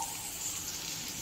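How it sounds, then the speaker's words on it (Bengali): Water poured into a pot of lentil (kolai dal) batter mixed with chopped green chili, giving a steady, soft, even hiss with no break and no voices. "এবার আমরা জল দিয়ে দিচ্ছি।"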